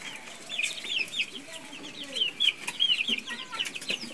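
Chickens let out of their house on a farm cluck and chatter in short, overlapping calls, fairly close and continuous, with no voices over them.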